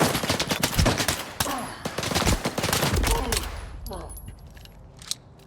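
Rapid bursts of automatic gunfire crackle through a firefight in S.T.A.L.K.E.R. 2, loud and dense for several seconds before thinning into scattered shots, with a voice speaking over the exchange.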